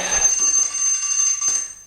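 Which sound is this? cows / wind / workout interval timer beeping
workout interval timer beeping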